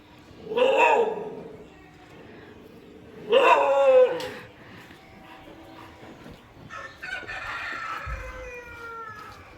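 A dog named David barks twice at another animal, Raja, two loud close barks a few seconds apart, followed by quieter background sounds and faint animal noises.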